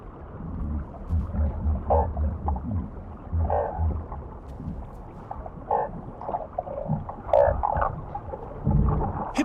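Whales calling underwater from a family pod, low moaning and groaning tones in a murky, rumbling water ambience, with several drawn-out calls rising and falling across the stretch.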